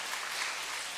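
Applause from a church congregation, steady and dense for the full second, moderately loud with no voices over it.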